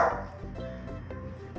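A dog barks repeatedly outdoors while animals raid a jabuticaba fruit tree, short bark bursts recurring at a steady moderate level with no talk over them.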